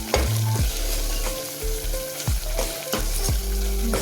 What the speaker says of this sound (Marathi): इकडे मस्त असं हे परतलं गेलेलं आहे